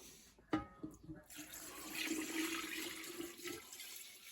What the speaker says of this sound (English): I'm going to pour that over the eggs and beets